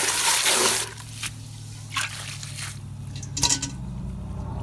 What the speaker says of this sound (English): This is how I wash my dishes.